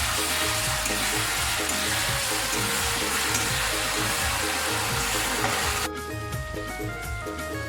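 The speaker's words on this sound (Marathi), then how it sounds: "आता हे वाटण बनवून घेतलेलं आहे। त्याला 1-2 मिनिटं परतून घेते।" Ground spice paste sizzling in hot oil in a pan, a loud, steady frying hiss that suddenly eases into a softer crackle near the end, with no talking.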